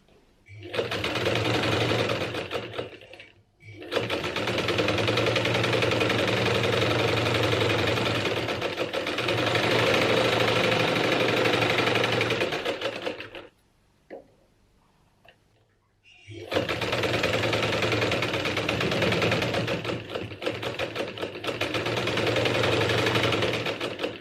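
A sewing machine stitches a cotton fabric mask in long, loud, continuous runs, pausing briefly twice before resuming at the same steady whirring pace.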